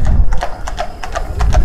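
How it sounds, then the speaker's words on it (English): Police horses walk on a paved street near Bloomfield Road football ground on a crowded match day, their hooves clip-clopping in a steady, close, fairly loud rhythm of sharp strikes over low crowd rumble. "Horse. Horses here."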